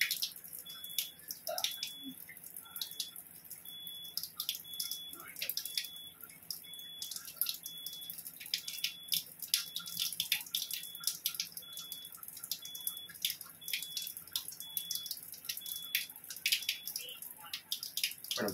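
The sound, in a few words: water flowing from a Kangen water ionizer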